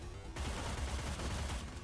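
Sustained gunfire in the video game Cyber Knights: Flashpoint, a loud, dense rattle of overlapping shots that starts abruptly and continues without pause, with no talk over it.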